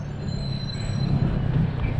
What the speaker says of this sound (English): surprisingly, the train still passes through here